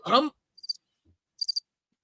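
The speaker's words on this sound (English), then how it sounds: "cue the crickets" Crickets chirp in two short, bright bursts of rapid pulses, clean and isolated, following a brief breathy vocal sound at the start.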